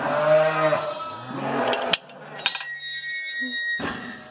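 A ewe and lamb bleat in a farm group pen, with several close, loud calls in the first two seconds, followed by fainter bleats and a few clanks from gate metal.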